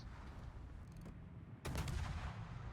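Naval gunfire in the Azur Lane video game, with a single loud cannon boom near the middle over a steady low rumble of game background noise.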